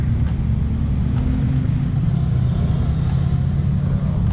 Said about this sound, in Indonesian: truk pengangkut tanah biasanya tuh